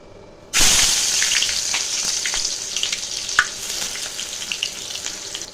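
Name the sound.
chopped onion frying in hot mustard oil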